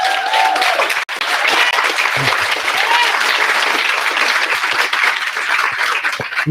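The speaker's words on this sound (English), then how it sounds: "Give yourselves a round of applause, man." Audience applause for the Black Student Union at a justice awards event, a full, sustained wash of many hands clapping with a few cheers, close and loud throughout.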